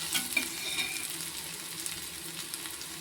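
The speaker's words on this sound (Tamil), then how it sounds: "இப்போ வந்து வெங்காயம் வந்து நல்லாவே வதங்கி வந்துருச்சு" Chopped onions sauté in a pan for a Tamil-style mutton biryani, giving a steady close sizzle with soft scraping stirs and small crackles throughout, no voices.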